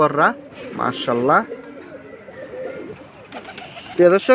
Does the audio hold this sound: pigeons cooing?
yes